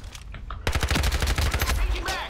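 Gunfire in the online shooter Ironsight: rapid bursts of automatic shots rattle loudly and continuously for about two seconds after a brief quieter moment, with a voice faintly present at the end.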